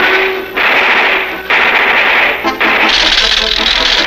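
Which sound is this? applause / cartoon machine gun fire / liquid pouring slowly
cartoon machine gun fire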